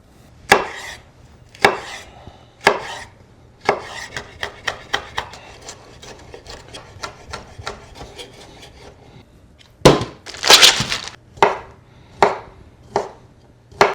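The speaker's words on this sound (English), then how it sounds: "We're just gonna chop these up into little bite-sized pieces" A knife chops beef smoked sausage into bite-sized pieces on a board, sharp close thuds spaced about a second apart, then a quicker run of lighter cuts before more firm, evenly spaced chops.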